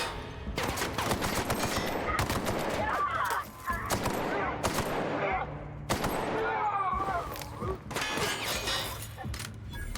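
Rapid, sharp gunfire in The Outer Worlds, loud volleys and shattering impacts crackling through a chaotic fight, broken by short pauses, with someone talking now and then.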